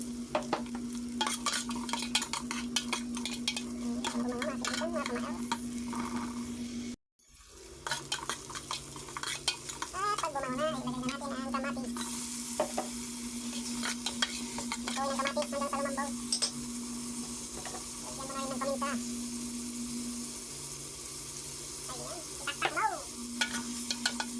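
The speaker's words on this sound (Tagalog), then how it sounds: "Isunod na ang sibuyas at bawang." Onion and garlic fry in hot oil with ginger in a pan for chicken with shrimp paste, giving a loud, steady sizzle throughout, broken by repeated scraping and clinking of a utensil stirring against the pan.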